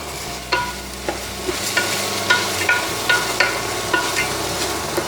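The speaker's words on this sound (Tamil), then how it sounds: "நல்லா அந்த பச்சை வாசனை போகிற வரைக்கும் நல்லா வதக்கிக்கலாம்." Snake gourd sautéing in a pan for a payasam, with a spatula scraping and stirring in repeated sharp strokes over a steady low sizzle, close and fairly loud, no voices.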